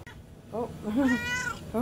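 A cat meows a few times up close, short drawn-out cries in quick succession over a quiet background.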